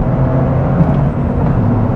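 A 2023 Toyota GR Corolla Morizo driven flat out through a sweeping left-hand bend, its engine a steady, loud low drone heard from inside the cabin without a break.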